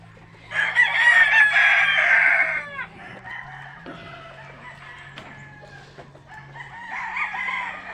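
Pet chickens kept for breeding make noise nearby: a rooster crows loudly once, then hens cluck softly, with a second crow starting at the end, no voices.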